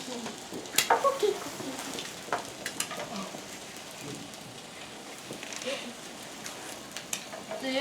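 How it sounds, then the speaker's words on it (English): An egg fries in a pan with a steady, faint crackling sizzle and scattered small pops, heard up close throughout. "So if the egg is ready, you can flip it like this."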